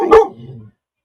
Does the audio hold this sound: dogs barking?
yes